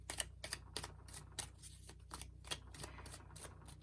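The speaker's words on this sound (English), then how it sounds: "As I'm shuffling and waiting for some to come out" Tarot cards are shuffled by hand close up, a quiet run of crisp riffling flicks and soft slaps in an uneven rhythm, with no talk.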